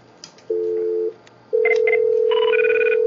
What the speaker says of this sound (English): You'll notice that that's ringing on the desk phone.